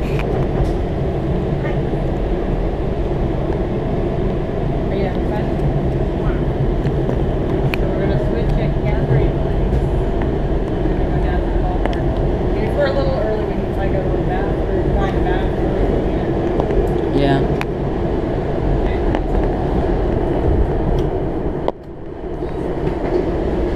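A WMATA Kawasaki 7000-series Red Line train rumbles past steadily with a loud, continuous roar and faint rattling, lasting a long time before cutting off abruptly near the end.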